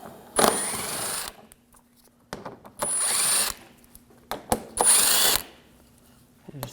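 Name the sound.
removing bumper screws with a socket tool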